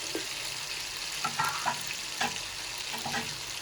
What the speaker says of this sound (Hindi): ये हमारे पास नमक वाला गोश्त है, ये हम मसाले के अंदर फ्राई करेंगे।